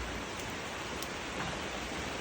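Rain falls in a steady, hissing wash outside, an even, close and fairly loud downpour with no break over a couple of seconds.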